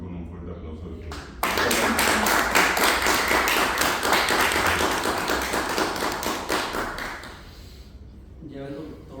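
An audience at a book presentation breaks into loud, sustained applause, a dense burst of clapping that swells abruptly and then slowly tapers off after several seconds.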